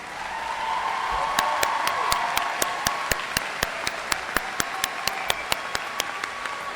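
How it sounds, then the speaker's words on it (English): Audience applause for School of Art and Design graduates at Alfred University commencement, a broad wash of clapping with a few sharper nearby claps standing out in a steady rhythm toward the end. "A big round of applause for our graduates in the School of Art and Design."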